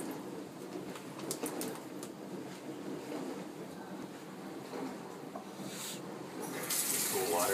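Tap water runs quietly into a sink while a turkey is rinsed, a soft steady spatter under faint background noise that grows louder near the end.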